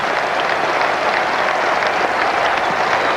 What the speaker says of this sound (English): And listen to the applause here.